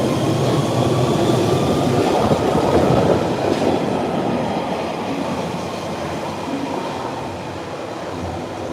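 A London Underground train runs steadily through a tunnel, giving a loud, continuous rumble with rattling wheels and a faint metallic squeal that eases slightly toward the end. No voices are heard.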